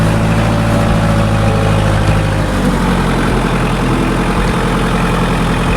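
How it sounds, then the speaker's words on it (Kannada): A farm tractor that has just finished ploughing a field drives back toward the road, its diesel engine idling and rumbling steadily and loudly with a deep low-pitched drone throughout, no voices. "ಇದೀಗ ಟ್ರ್ಯಾಕ್ಟರ್ ರಿಟರ್ನ್ ಹೋಗ್ತಾ ಇದ್ದಾರೆ ನೋಡಿ."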